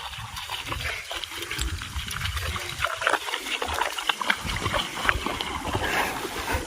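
Steady broadband rush of the Shivdav river flowing over stones, continuous and fairly close, with no voices.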